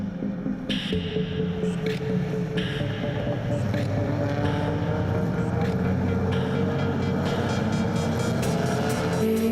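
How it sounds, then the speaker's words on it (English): Historic saloon racing cars, classes F, G and H including a 1968 Ford Anglia and an Alfa GT Junior, rumble around a circuit in a race heat, a steady loud drone of several engines with rising and falling pitches throughout. "Heat 2 gets underway in the Marlboro Crane Hire Historic Saloons, classes F, G and H."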